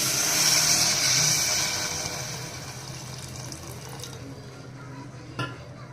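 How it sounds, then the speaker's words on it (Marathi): Water pours into a pressure cooker holding bottle gourd, toor dal and spices, a bright splashing hiss that is loudest at first and tapers into a softer trickle, ending with a small clink. "पाणी टाकून घेऊया."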